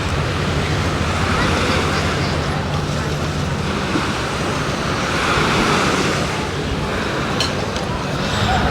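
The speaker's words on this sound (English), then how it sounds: "the water's flat but still choppy with the breeze gusting around" Steady breeze gusting over choppy Sydney Harbour water on a cool winter day, a continuous broad wash of wind and lapping water with no clear pauses.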